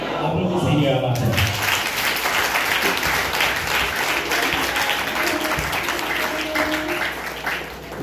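A church congregation claps and applauds continuously, loud and sustained, with voices mixed in throughout.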